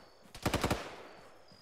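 A .50 cal machine gun in Arma 3 fires a short burst of about five evenly spaced heavy shots, loud and punchy, with a brief tail afterward.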